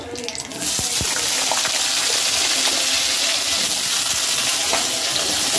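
Potatoes drop into hot oil tempered with nigella seeds, and after a short quieter start the oil breaks into a loud, dense, continuous sizzle that holds steady, with faint clinks now and then.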